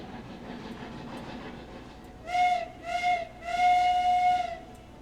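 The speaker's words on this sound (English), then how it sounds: "Three short whistles, let them know we're backing up." Steam locomotive whistle in the railroad game Railroads Online, sounding three short blasts as the train prepares to back up: two brief toots followed by a longer third one, clear and prominent over a low rumbling background.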